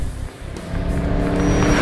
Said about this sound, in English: I'm driving the 2010 Camaro SS